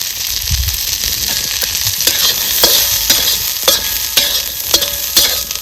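Corn and chilies roast in a little oil, a constant crackling sizzle broken by sharp scraping clicks of stirring at irregular intervals.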